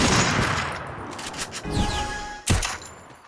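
Gunfire in the Free Fire video game: a dense burst of rapid shots at the start, then a sharp sweeping effect and another loud crack near the end, with no talking.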